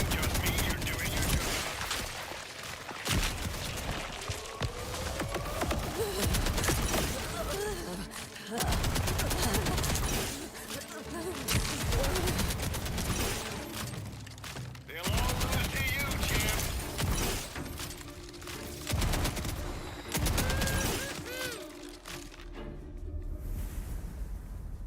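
Rapid sustained gunfire from Borderlands 4 rattles almost nonstop in dense bursts with brief pauses, and a player's voice shows up now and then over the shooting.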